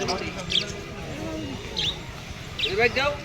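Pigeons at a busy pigeon market in Keshar Hat, Rajshahi, give short chirping calls at intervals beneath steady crowd chatter and nearby conversation.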